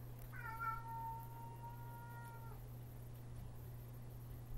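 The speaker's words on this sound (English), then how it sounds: "My cat is in here right now, so I let him out." An indoor cat gives a single drawn-out meow lasting about two seconds, close and clear over a steady low electrical hum.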